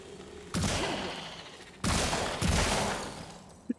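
Gunfire in a VR shooting video game, loud bursts of rapid shots in two main volleys, close and sharp, followed by a couple of brief clicks at the end.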